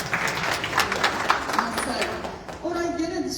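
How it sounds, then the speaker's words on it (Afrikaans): A church congregation claps for itself, a brief ragged burst of applause that fades out, followed by a voice speaking. "Julle kan julle self weer aan 'n klap gee."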